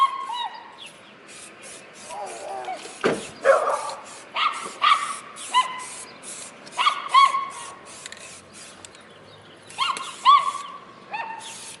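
Dogs bark outdoors in repeated sharp woofs and yips, spaced a second or two apart at moderate distance, with a few faint whimpers and birds in the background.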